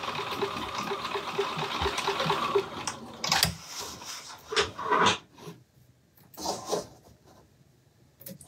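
Home sewing machine running a straight seam on a fabric pouch, a steady mechanical whir for the first few seconds, then short bursts as it reverses and goes forward again for a backstitch, close and fairly loud.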